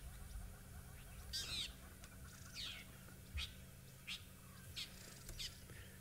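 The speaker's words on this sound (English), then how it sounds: "That bird calling is the fork-tailed drongo." Several short calls of a fork-tailed drongo ring out at intervals over a steady low background hum, moderately distant and fairly faint.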